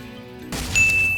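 A bright bell chime in the video game Spyro Reignited Trilogy rings out after a short low hum, its clear tone sustaining and ringing on alone.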